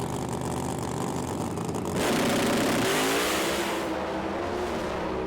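Pro Mod drag racing cars tearing down the strip in a British Drag Racing Championship round, a loud sustained engine roar that swells, then pitches and fades as they pass into the distance.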